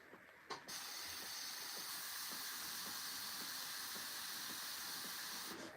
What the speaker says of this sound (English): I'm so glad I just took the airbrush